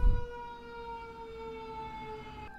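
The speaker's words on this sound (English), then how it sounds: "Here's a siren." A siren sounds outside a home, a steady held wailing tone with strong harmonics, heard at moderate distance after a brief bump at the start, cutting off near the end.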